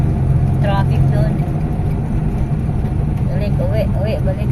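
Road traffic sounds out in the countryside, with a steady hum of passing cars and engines at moderate distance under near-constant chatter and talk.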